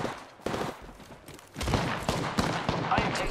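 Rapid gunfire bursts in the video game Apex Legends, played on PC in Season 4, crack repeatedly and loudly in close succession, with several sharp shots standing out over a busy, dense battle background.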